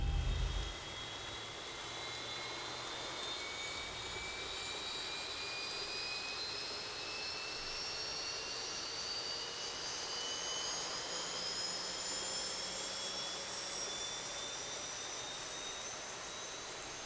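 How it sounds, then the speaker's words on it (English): An airliner's number 2 jet engine spools up in X-Plane 11 during a storm at Gran Canaria, a steady roar with a whine that rises slowly and continuously over many seconds. "Okay, so engine number 2 now coming to life."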